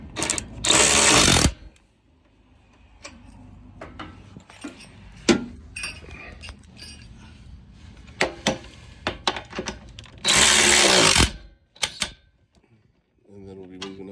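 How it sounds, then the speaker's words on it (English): A power tool tightens running board bolts on a 2019-2024 Silverado or Sierra truck in two loud, sustained whirring bursts close by, separated by quieter clinks and rattling, with someone talking. "And just tightening everything down now. Tightening these top. Going with the top bolts first."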